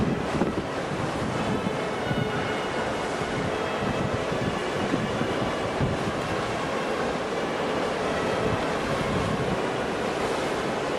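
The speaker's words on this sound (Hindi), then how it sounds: "ये समुद्री नहरें हैं जो साइले समंदर पर आ रही हैं।" Sea waves breaking on a shore, a dense, continuous roar of surf with strong wind noise buffeting the microphone throughout, loud and unbroken.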